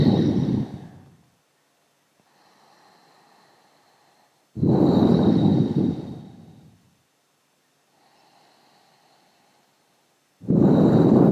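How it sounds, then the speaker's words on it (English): Slow Ujjayi yoga breaths sound close to the microphone, loud rushing airy exhales alternating with soft, faint inhales in a steady cycle, during a standing forward bend with hands bound behind the back. "Ujjayi breathing."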